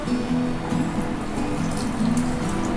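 Water with dissolved organic and NPK fertilizer poured onto a keladi wayang plant, making a close, continuous splashing and trickling patter with soft dripping, no voices.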